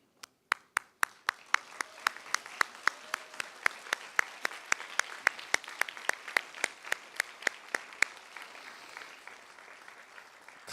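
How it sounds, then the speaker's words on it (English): Graduating class of 2025 applauding their families at a graduation ceremony, a brisk burst of many hands clapping with sharp individual claps standing out in a steady rhythm, swelling then thinning toward the end. "give a round of applause to your families who have sacrificed so much to help you make it to this moment"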